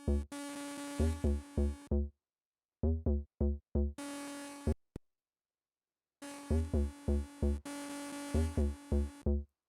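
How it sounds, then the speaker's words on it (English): Harsh 808 sub-bass synth notes, heavily distorted and bit-crushed, hit in short rhythmic bursts and sustained chunks, gritty and buzzing, with abrupt gaps of silence between phrases. "the same instrument, but using a lot of distortion and bit crushing. You get that little nasty sound."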